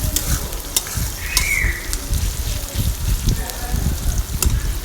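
Onion frying in oil with cinnamon, cardamom and bay leaf, a close steady sizzle broken by scraping stir strokes and occasional clinks, with no speech.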